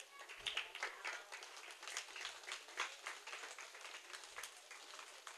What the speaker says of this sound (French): Applaudissez pour Elhaj.